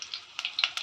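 Fennel seeds dropped into hot oil for a restaurant-style chicken kulambu, giving a few short, bright crackling sizzles and pops in quick succession, close and moderately loud with no talking.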